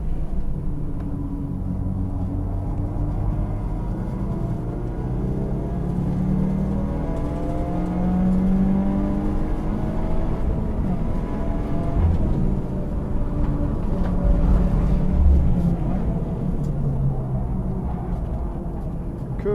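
A 2015 Subaru WRX is pushed hard around a lap of Thunderhill West, the engine droning loudly from inside the car as it climbs and falls in pitch through gear changes and corners.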